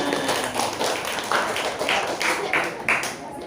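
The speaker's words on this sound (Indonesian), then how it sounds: "Kita beri apresiasi tepuk tangan untuk yang maju di depan." A classroom of students claps briefly for classmates who presented at the front, a short, moderately close patter of hands with voices and room noise around it.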